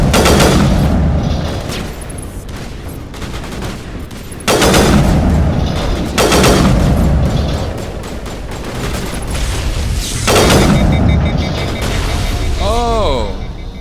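Sniper rifle gunfire in the video game Mass Effect, loud heavy blasts and booming impacts repeating every second or two, with a sweeping electronic tone near the end and a voice speaking intermittently.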